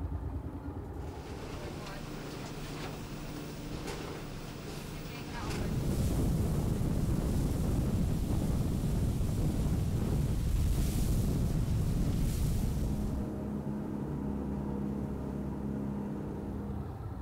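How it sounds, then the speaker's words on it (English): Wind blows across an Alaskan beach and buffets the microphone as a broad, rough roar that swells louder through the middle stretch and then eases, with possible surf beneath it. "the wind's blowing the right direction"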